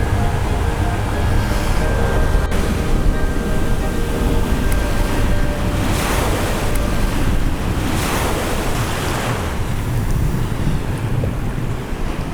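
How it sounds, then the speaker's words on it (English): Rough surf and gusting wind on a beach at Puerto Plata, a steady roar of breaking waves with buffeting wind noise across the microphone, loud and continuous throughout with no voices. "the seas tend to be a bit rough around here anyway because of the wind"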